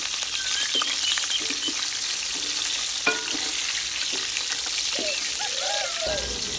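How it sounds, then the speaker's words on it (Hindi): Green chillies frying in a pan give a steady close sizzle with a few light clinks and scrapes scattered through it. "हरिया मिर्चां भी थोड़ा फ्राई करांगे।"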